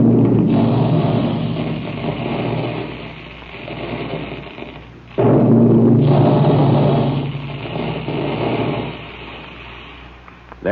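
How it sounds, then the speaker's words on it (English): A vintage radio sound effect stands in for Quaker puffed wheat and puffed rice being shot from special guns, heard as a loud, roaring rumble that drops away and then bursts back in, alone without voices. "That's the sound you hear when puffed wheat and puffed rice are shot from special guns in the Quaker plant"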